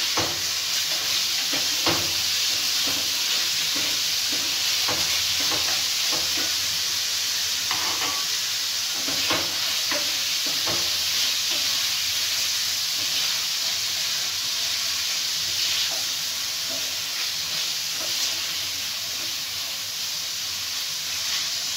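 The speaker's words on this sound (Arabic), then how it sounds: "نديرو الزيت، غنشحرو بعدا الدجاج والكبده" Chicken and liver fry in hot oil in a pan, a continuous close sizzle with scattered crackles and occasional stirring scrapes, and no one talking.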